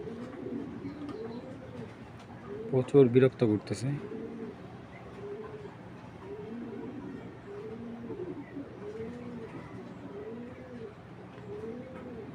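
Racing pigeons coo softly in a repeated rolling rhythm throughout, with a brief burst of flapping and a person speaking briefly.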